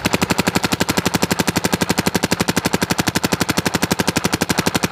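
Empire Mini GS paintball marker firing rapidly in semi-auto (MPPL) mode, a dense, steady stream of sharp pops, roughly ten shots per second, loud and close with no talking.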